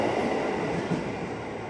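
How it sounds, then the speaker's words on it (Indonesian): A KRL commuter train departs Depok station bound for Jakarta Kota, a steady broadband rumble of wheels and carriages rolling close by without pause, no voices over it. "Ini komuter lain pemberangkatan stasiun Depok tujuan Jakarta Kota."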